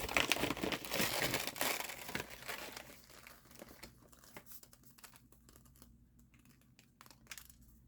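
Brown craft paper packing material from a shipping box crinkles and rustles as hands handle it, loudest in the first few seconds and then fading to softer, sparser crackles and taps. Nobody speaks.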